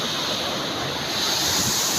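Huge typhoon-driven waves crash and roar against the shore in a dense, continuous surge, loud and close with wind rushing over the microphone.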